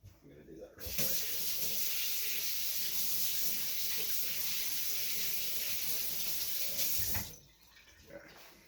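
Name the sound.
cold tap water running over boiled eggs in a sink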